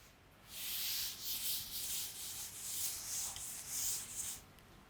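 Writing is being rubbed off a board, heard as a close, continuous rough swishing of back-and-forth strokes lasting several seconds before it stops.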